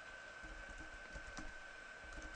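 Typing on a computer keyboard, a quiet, steady patter of small key clicks running through the whole moment with no talking.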